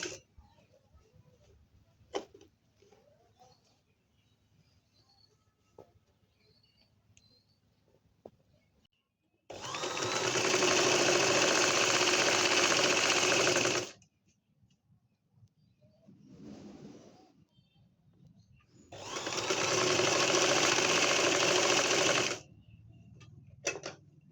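A sewing machine stitches lace onto the sleeve of a baby frock in two distinct runs of rapid, even whirring clatter, each lasting a few seconds, with quiet handling noises in between.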